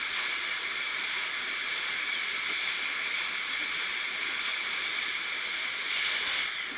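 A dental handpiece drill works on tooth #18, preparing it for a gold onlay, with a steady high-pitched airy whine and hiss that holds evenly throughout and swells slightly near the end.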